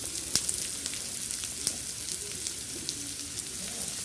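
Chopped large onions fry in hot oil for a chicken curry, giving a steady, moderate sizzle with occasional sharp crackles and light stirring ticks.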